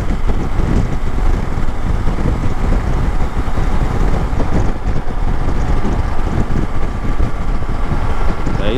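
Triumph Tiger Sport 660 motorcycle cruising gently in sixth gear, a steady low engine drone blended with heavy wind rush across the microphone, continuous and close throughout.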